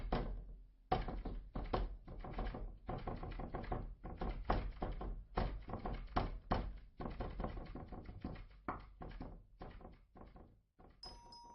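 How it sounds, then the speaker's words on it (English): Dense run of loud, close knocks and thuds around a wooden cabin, irregular and overlapping in rapid bursts with barely a pause, no voices. "I began to hear knocks all around the cabin"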